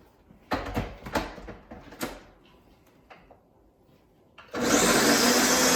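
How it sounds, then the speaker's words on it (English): Kitchen countertop blender switched on for an al pastor marinade, starting with a loud steady whirring roar after a few scattered knocks and clatters of loading it. "Now we're going to throw this in the blender."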